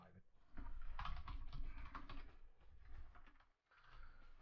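Fingers tap a computer keyboard in quick, close bursts of clicks, pausing briefly before a final run of keystrokes.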